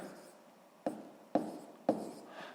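Three crisp chalk or marker taps on a board while writing a fraction in a sixth-grade maths exercise, evenly spaced, close and quiet, with no speech.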